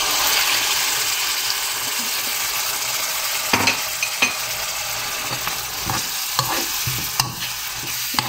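Jereesh sauce with cinnamon stirred in a cooking pot gives a steady soft sizzle with scattered spoon scrapes and knocks against the pot, heard close up without talk.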